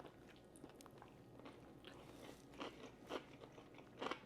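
An air-fried pickle appetizer is bitten with a crisp crunch, followed by quiet close chewing and a few louder crackling bites near the end, with no talking.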